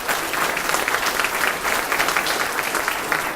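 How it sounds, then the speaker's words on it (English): A crowd at a senior center anniversary celebration claps steadily in sustained, even applause, loud and close throughout. "I want to give her a round of applause"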